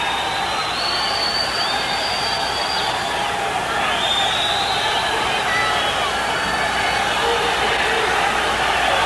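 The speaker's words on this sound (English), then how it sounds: "Crowd starting to hush into almost just a murmur now" A boxing arena crowd during a WBA flyweight title fight between Fidel Bassa and Ray Medel settles into a steady, dense murmur of many voices, a continuous babble with no big cheers or peaks.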